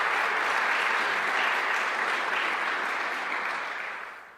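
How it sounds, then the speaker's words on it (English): Loud, sustained applause from a large crowd for the New York governor at Onondaga Community College, dense and full for several seconds before tapering off at the end. "Can we have another round of applause for the governor?"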